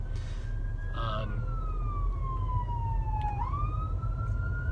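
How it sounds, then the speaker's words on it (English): An ambulance siren wails steadily, its pitch slowly sliding down as it passes and then rising again, heard over constant road rumble. "Ooh, ambulance. Ambulance is on the prowl."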